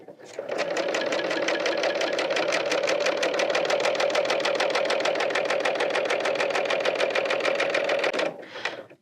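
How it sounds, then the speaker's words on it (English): A Bernina L890 serger overlocks the edge of a piece of fabric, running at a fast, even, rapid-fire stitching rhythm for about eight seconds alone before stopping abruptly. "Now I'll just press down on my presser foot and start to serge."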